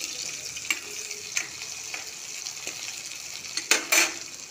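Tomatoes and bori lentil dumplings fry in a pan with a steady close sizzle, broken by a few sharp utensil clinks and scrapes and a louder burst of hissing near the end.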